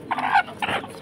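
Chickens clucking inside a village house, two short nasal squawking calls close by, with no talking.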